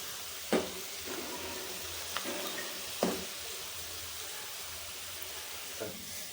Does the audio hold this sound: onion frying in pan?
yes